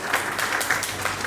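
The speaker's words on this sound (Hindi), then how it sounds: "तालियां।" Audience applause at a talk on acting, a brief burst of brisk clapping from a gathered crowd, fairly close and even in level.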